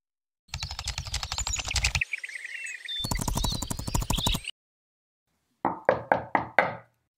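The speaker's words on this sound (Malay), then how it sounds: "Ada orang ketuk pintu?" Knocking on a door in a digital animation: two stretches of rapid, dense tapping, then five sharp, evenly spaced knocks, loud and close, with no voices.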